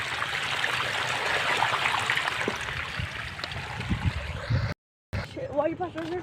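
Water flowing in from a gate beside tomato and mustard fields, a steady rushing, gurgling stream heard close up, with a voice talking over it and a brief dropout near the end.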